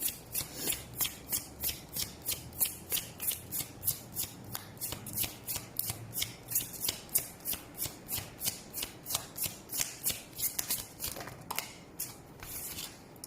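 Tarot cards being shuffled by hand, a steady run of crisp riffling flutters repeating about twice a second, close and clear with no talk.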